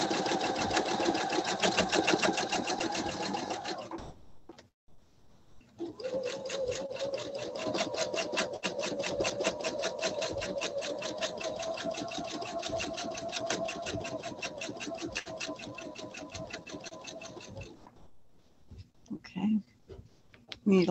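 Sewing machine running for free motion quilting, a rapid, even stitching rattle in two long runs separated by a short pause, ending with a few soft clicks.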